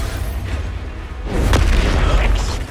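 A spell explosion from the Hogwarts Legacy video game, cast in combat: a booming blast that swells midway and rumbles on loudly through the end, over a dense low background.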